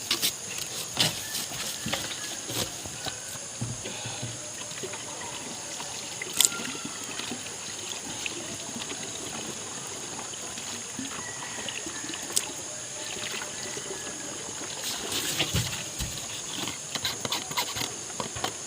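Water poured into a 16-liter backpack sprayer along with chemical on a ginger farm: a continuous trickling, splashing pour at moderate level, with occasional knocks and clicks against the container and no talking.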